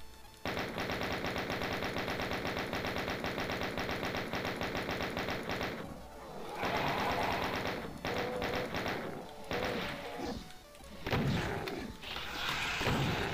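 Chaingunner enemies in Doom firing in long sustained bursts of rapid, buzzing automatic shots, loud and close, with brief gaps between volleys.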